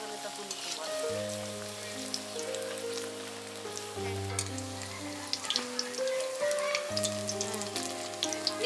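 Chicken pakoras fry in hot oil with a continuous fizzing crackle, heard faintly beneath steady background music.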